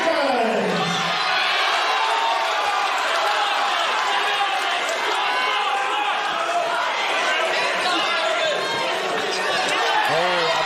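A boxing crowd roars and chatters continuously throughout a live fight between Aaron Treacy and Billy Quinncroft, a dense, steady wash of voices with occasional whoops rising above it.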